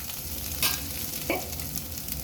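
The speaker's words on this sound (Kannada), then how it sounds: "ಈ ಥರ ಹುರ್ಕೋಬೇಕು. ಕೈ ಆಡಿಸ್ತಾನೆ ಇರಬೇಕು, ಇಲ್ಲಾಂದರೆ ಅದು ಕೆಳಗಡೆ ತಳ ಹಿಡ್ಕೊಳುತ್ತದು." Egg bhurji is stirred and fried in a pan, giving a steady close sizzle, with two sharp scraping strokes of the spatula against the pan partway through.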